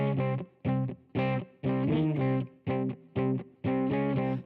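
An electric guitar with heavy distortion plays the Pokémon Black and White battle theme, hitting a run of loud, punchy chords in short bursts separated by brief gaps.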